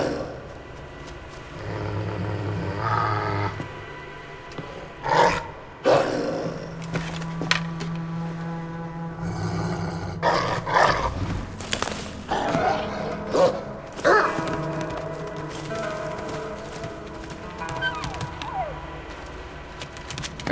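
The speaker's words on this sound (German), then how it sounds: "Ein Babywolf." Wolf pup in Assassin's Creed Valhalla giving yips, whimpers and small barks, scattered in short bursts over game ambience and music.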